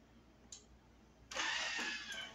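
A Thermomix starts mixing a seasoned meat mixture at speed 5, its motor kicking in abruptly after a brief click and then holding a steady, close whirring hum to the end.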